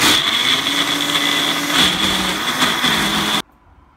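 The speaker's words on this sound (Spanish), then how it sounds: "Ponemos a licuar." A blender whirs steadily through strawberries, banana and ice for a smoothie, a loud continuous motor whine with some grinding. It cuts off abruptly near the end, leaving near silence.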